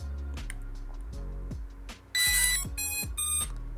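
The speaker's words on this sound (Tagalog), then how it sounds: "pag nag-beep na yung ating remote control, ibig sabihin nun connected na yung ating remote control dito sa drone" K11 Max drone remote control beeps as it links to the drone: a run of sharp electronic tones, two bright bursts near the end, loud and close over a low hum.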